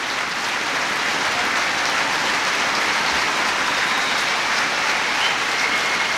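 A large arena crowd at an All England badminton semifinal applauds in a dense, sustained wash of clapping that holds steady throughout, with no voices standing out.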